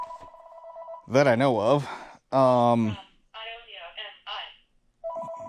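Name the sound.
telephone ringing with a spam call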